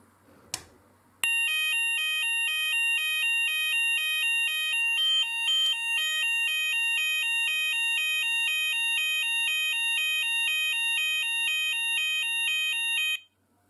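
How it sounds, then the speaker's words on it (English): A C-tec Activ base sounder emits the Hochiki Fulleon alternating alarm tone, a loud, piercing two-pitch electronic warble switching rapidly and evenly, starting abruptly after a click and running about twelve seconds before cutting off. "we're now going to test the C-tec Activ sounder for the Hochiki Fulleon alternating tone"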